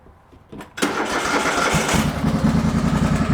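A Craftsman DLT 2000 riding mower's engine cranks briefly, then catches and settles into a loud, steady idle close by, with no talking over it.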